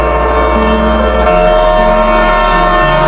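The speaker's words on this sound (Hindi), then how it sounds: "और देखते ही देखते एक काली भूरी रंग की पुरानी ट्रेन धीरे धीरे स्टेशन पर" An old black-brown train pulls slowly into a station, a loud sustained horn or whistle blaring with layered tones that shift pitch partway through, over a steady low rumble.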